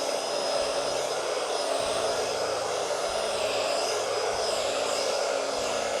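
A blower pushes air across wet alcohol ink on a painting, giving a steady, loud, close whooshing rush that holds without a break throughout.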